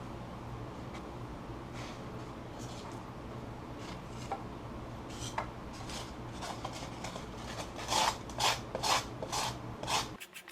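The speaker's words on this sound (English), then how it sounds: "I'm going to sand these and bevel them, radius everything real good" Foam casting patterns being sanded and beveled for a lost foam aluminum fish pick, a soft steady rasping over a low hum, building into several louder, rhythmic scraping strokes near the end.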